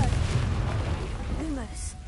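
A blasting spell fired in Hogwarts Legacy erupts as a deep, rumbling explosion, loud and close, with a spoken incantation mixed in over the boom.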